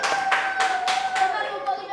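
An audience at a school gathering in Haiti claps in a few quick bursts, fairly close, with voices and a tonal sound running underneath the applause.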